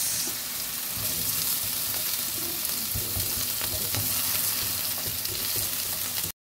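Potatoes frying in hot oil in a pan, a steady, dense sizzle with occasional crackles and pops, continuous and close, with no voices.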